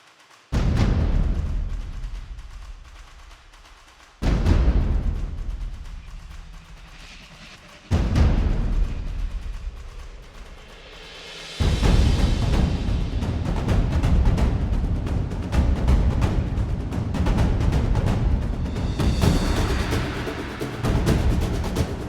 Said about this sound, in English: So we're going to take a listen to this percussion arrangement here that I made